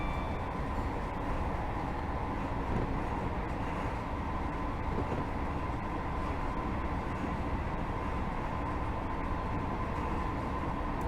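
Class 158 diesel train from a rail simulation game climbing at speed, a continuous steady rumble and engine drone with no talking.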